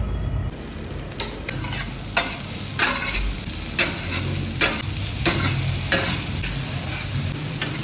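Food sizzles steadily on a hot metal griddle plate, a close, continuous frying hiss broken by repeated scraping and stirring strokes at a loose, regular rhythm, with no talking.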